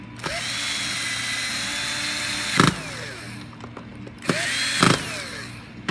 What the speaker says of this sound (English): And then we can put our 4 screws back in.